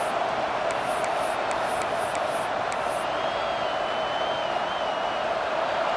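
A stadium crowd roars steadily in a college football video game with NC State playing at UCLA, a dense, unbroken wash of cheering that stays loud throughout, with faint short chirps early on.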